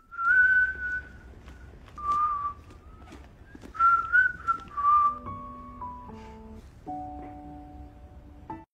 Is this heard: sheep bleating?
no